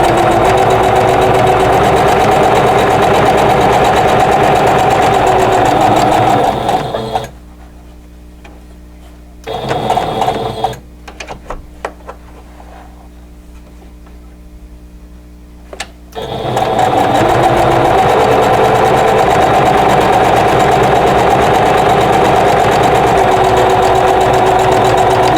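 A sewing machine stitches quilt block pieces in a steady, loud whirring run that stops for several seconds with a few short bursts, then resumes continuously.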